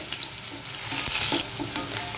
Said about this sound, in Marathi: जिरं पण छान तडतडलं।